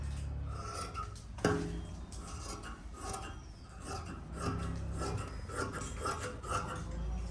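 Old saree fabric being cut to make a kurti, with a steady close scraping and rasping of blade and cloth on a hard surface and one sharp clack early on, continuous and moderately quiet.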